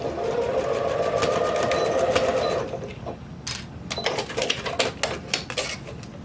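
A sewing machine bastes a collar in place, a loud fast whirring stitch run for over two seconds, then scattered clicks and light handling noises.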